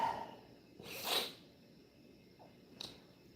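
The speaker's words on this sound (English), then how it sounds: "here's a sneeze" One quick, breathy sneeze bursts out softly over a low background hiss, followed by a fainter short puff a moment later.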